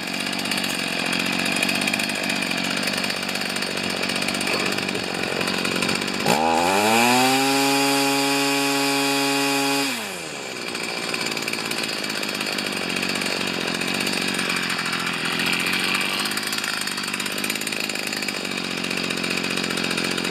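An old Stihl FS45 string trimmer engine runs loud and steady throughout, with a brief higher-revving surge in the middle before it settles back to its raspy running drone.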